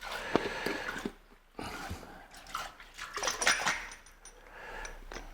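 Rusty parts being rinsed with water, irregular faint splashing and trickling in short bursts with quiet gaps, close but soft.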